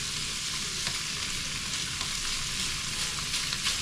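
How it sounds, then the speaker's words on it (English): Food browning steadily in a crowded frying pan, a dense, continuous sizzle and crackle of frying with occasional sharper pops, close and even throughout with no talking. "I'm just going to brown these up until they get a little bit of a crispy edge on them"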